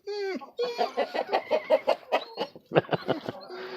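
Chickens and roosters snowed in inside a coop, a run of rhythmic close clucks and squawks, one rising call at the start, loud against a quiet background.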